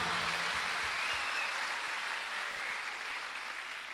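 Steady broadband applause from a church congregation at a sermon, a continuous wash of many hands clapping at moderate level that slowly eases, with no voices over it.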